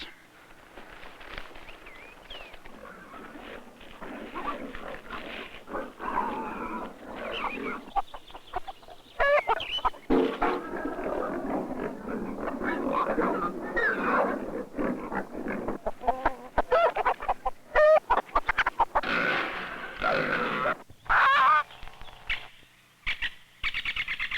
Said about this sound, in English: get Widow Alice's hens out of the waste